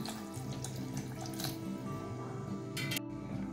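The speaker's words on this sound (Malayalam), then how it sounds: "നല്ലതായിട്ട് വെള്ളം ഒഴിച്ചു കൊടുക്കുക" Water runs into a mixer jar while ghee is being made, a steady trickling and splashing stream with a brief gurgle near the end, and no one speaks.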